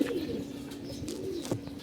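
Pigeons, including a white one suffering from some illness, give repeated low, throaty coos, close and clear over a faint background.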